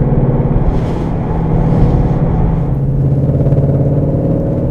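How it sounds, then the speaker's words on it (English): A loud, deep engine roar from a Ford Mustang with a high-performance exhaust, raspy note, holding steady and close throughout with no talking. "So what makes the noise? Basically, it's just a high-performance exhaust."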